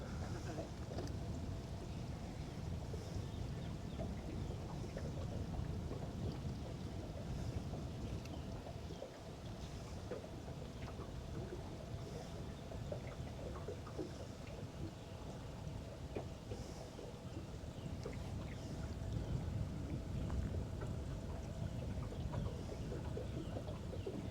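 Steady wind buffets the open water around a fishing boat drifting on the lake, a constant faint rushing wash with the low hum of the boat beneath and no clear talk.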